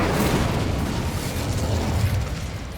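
Hogwarts Legacy's Incendio fire spell blasts in a loud, dense roar of flame that holds steady for nearly three seconds before easing slightly, with no talk over it.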